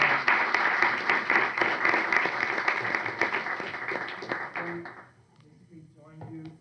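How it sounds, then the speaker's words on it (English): Audience applause at a university energy panel event, a loud dense burst of clapping for about five seconds that fades out, followed by brief quiet talk. "let's give a big round of applause for Arturo Masol and for everyone here."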